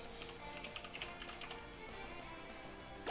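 Computer keyboard typing, quiet and close, with irregular clicks and small bursts of keystrokes during a Pokémon Alpha Sapphire play session, then tapering off toward the end.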